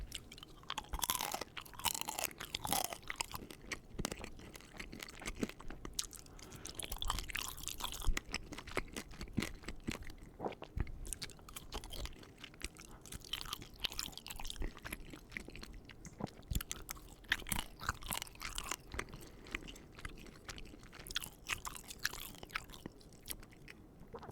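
Close, crunchy chewing of crunchy, burnt pasta with irregular bites and crackling munches, continuing steadily without any talking.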